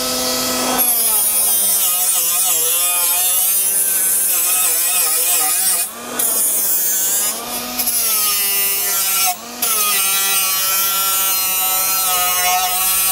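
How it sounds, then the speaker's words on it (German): A small Bosch 12V cordless angle grinder deburring and rounding metal edges, a loud high whine that shifts pitch as the disc bites, with two or three short pauses where it spins down and restarts. "Und dafür nutzen wir mal diesen kleinen Winkelschleifer hier."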